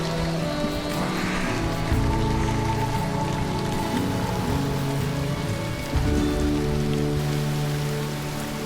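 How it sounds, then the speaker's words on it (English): Steady, heavy rain patters continuously on a surface during a road trip, a dense close wash of drops with a low rumble underneath and no voices. "It rained continuously for 3 days"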